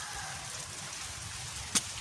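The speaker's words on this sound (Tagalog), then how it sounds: "Medyo humihina yung ulan. Pero umaambon. Hindi huminto, umaambon lang siya." Light drizzle falling outdoors on wet ground among weeds, a soft, steady hiss with no distinct drops, plus one brief sharp tick near the end.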